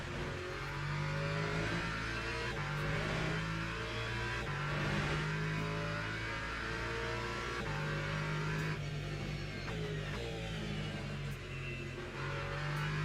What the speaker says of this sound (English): the downshifts are so different now, like so different. It just sounds a lot lighter